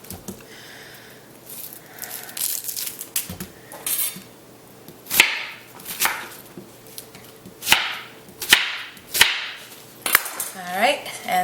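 A knife cuts through an onion on a board with a series of sharp, irregular chops and clacks, some louder than others, close by with faint background noise and no talking.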